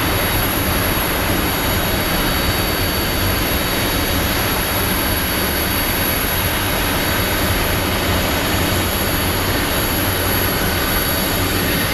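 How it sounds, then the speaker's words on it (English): A United Airlines jet pushes back from the gate at Phoenix Sky Harbor International Airport, heard as a loud, steady, broadband engine roar with a high whine that holds throughout. "one of the United planes is pushing out"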